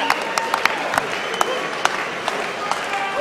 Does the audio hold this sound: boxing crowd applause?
yes